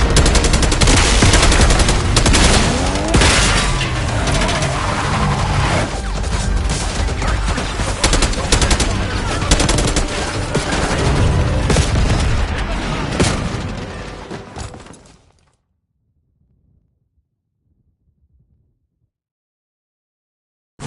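Dense automatic gunfire and explosions from a Call of Duty Black Ops 6 campaign battle on PS5, loud and continuous for about fifteen seconds before cutting to near silence, with shouted voices mixed in.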